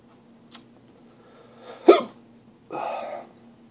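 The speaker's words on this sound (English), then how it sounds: "hiccups, no surprise there." Several sharp hiccups from a person, close and distinct, spaced irregularly with quiet gaps between them.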